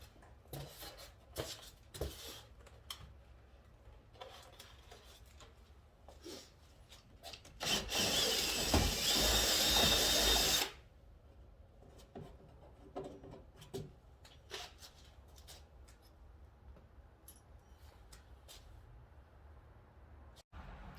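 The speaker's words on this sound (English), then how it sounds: "Okay, so we've drilled all the way through." A drill bores a bolt hole through the cab of a Polaris Ranger in one loud burst of about three seconds, framed by quiet handling clicks and rubbing.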